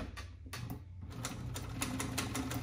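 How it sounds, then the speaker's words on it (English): A sewing machine runs a butt seam along the edge of upholstery vinyl, its needle producing a rapid, even mechanical chatter that starts after a brief pause and continues steadily, close and alone. "Now we're gonna sew this, and this would be sewed right on the edge of the material"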